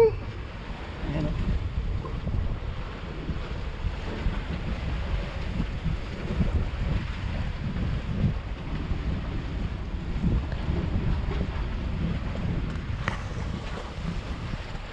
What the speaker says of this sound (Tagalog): lakas ng hangin, bigla lalong lumakas ang hangin ngayong paggabi na